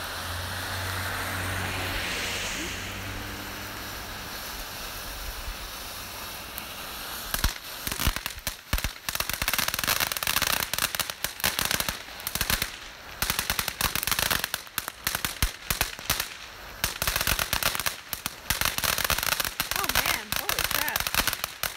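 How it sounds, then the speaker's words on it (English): New Year's Eve fireworks bursting outdoors, a dense run of loud cracks, bangs and crackling volleys that keeps going after a quieter opening stretch. "Dual fireworks"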